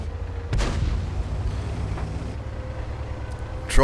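A tank cannon shot in World of Tanks bounces off the side of a turret, a loud booming crack with a rumbling tail. A second sharp burst comes near the end.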